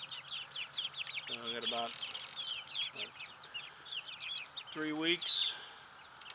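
Meat chickens cluck and squawk close by amid background chirping, while a person speaks briefly over them.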